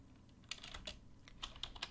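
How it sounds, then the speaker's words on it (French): A computer keyboard clicks in quick, irregular keystrokes, faint and close to the mic, with no talking. "vous entendez très bien mon clavier"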